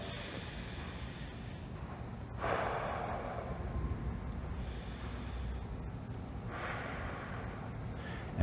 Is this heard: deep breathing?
yes